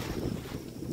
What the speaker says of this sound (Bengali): ঝোড়ো হাওয়া কিন্তু হয়েই যাচ্ছে সকাল থেকে।